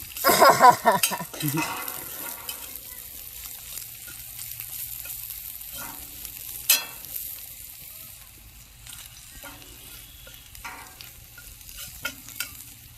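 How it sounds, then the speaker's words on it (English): An egg and snipped greens fry over an open fire, a soft steady sizzle under stirring, with clattering pan and utensil hits near the start and a few sharp clicks later. "So now our egg's cooking, and I'm going to add some of our greens."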